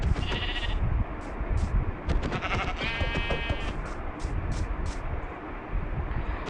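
A goat in the video game Minecraft bleats in several short, wavering calls over a dense, rumbling game soundscape, with a couple of brief high tones in between.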